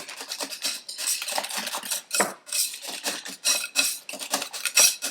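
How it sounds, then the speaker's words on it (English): A whisk beats a cilantro salad dressing in a bowl with quick, rhythmic metallic scraping and clinking strokes, close and continuous, with no talk. "And then just give it a quick whisk. So all I'm doing is just incorporating that cilantro throughout the dressing."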